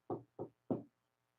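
Knuckles rapping on a door, three close, distinct knocks in a quick uneven pattern, then quiet.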